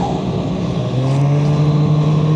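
A snowmobile engine revs hard and steady as the sled pulls its skis up into a wheelie on a bitter cold trail, a loud close buzzing drone that climbs in pitch partway through.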